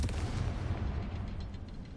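Confringo blasting spell in Hogwarts Legacy, heard as a dense, sustained rumbling boom with heavy low-end energy that slowly fades, with no talking over it.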